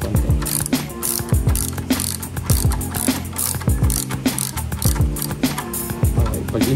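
A ratchet wrench tightens a bolt while a Gravis visor set is mounted, giving a loud, close, rapid run of clicking pawl strokes in repeated bursts across the clip.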